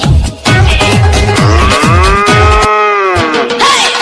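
A cartoon-style cow moo rises and bends in a long drawn-out call over a bouncy musical backing with thumping beats, loud and close, ending abruptly.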